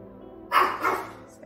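A dog gives a single short bark indoors at moderate distance, a brief burst with a slight second pulse, heard alone against a quiet background.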